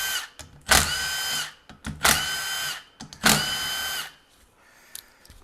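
A power tool loosens the bolts holding the solenoid pack and valve body of a 6L80E transmission on a 2009 GMC Sierra Z-71 with a 5.3L engine, giving three close, loud bursts of whirring, each lasting about a second.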